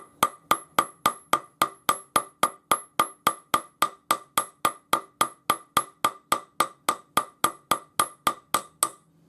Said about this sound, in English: just use my jeweler's hammer to hammer it half its thickness